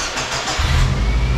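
A Subaru JDM car's engine cranks briefly and catches, firing up into a loud, close rumble that settles into a steady idle, with no talking.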